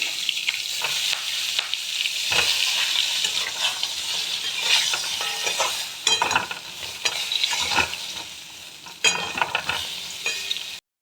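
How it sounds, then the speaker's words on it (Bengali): Aubergine sizzles in hot oil in a pan after fried lentil dumplings, with a steady close frying hiss and repeated bursts of stirring and scraping, no talk. "বড়িগুলো ভাজা হয়ে গেছে, দিয়ে দেবো বেগুন"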